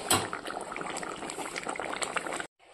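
Drumstick curry simmering in a pan, a close, continuous bubbling and popping that holds steady for a couple of seconds and then cuts off abruptly into near silence.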